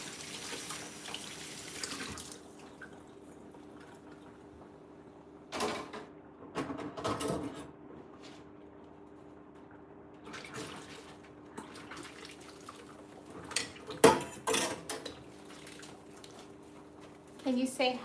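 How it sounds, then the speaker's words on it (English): Dishes being washed under a running kitchen tap while soup is cooked at home: a soft steady stream of water with intermittent clinks and splashes from handled dishes, fairly quiet throughout. "I'm doing dishes. I'm cooking."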